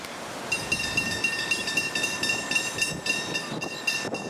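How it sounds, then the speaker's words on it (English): A train passes on a windy, rainy day, a steady rumbling roar with faint high squeals and tonal whines over gusty wind noise, holding level for several seconds. "Second train."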